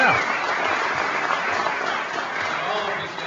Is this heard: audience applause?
yes